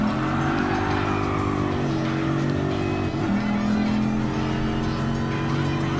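Group 3 race cars, including a Ford Mustang and Corvette C7, in Gran Turismo Sport give off a loud, steady engine drone with layered harmonic tones and a brief pitch dip partway through.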